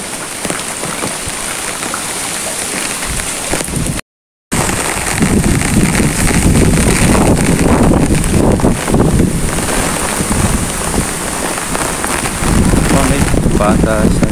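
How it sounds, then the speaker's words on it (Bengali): Strong wind and rain on a rainy morning beside trees, a steady roaring rush with gusty buffeting on the microphone and drops pattering throughout, broken by a brief dropout. "অনেক বাতাস আর বৃষ্টি হচ্ছে, বাতাসের শব্দ।"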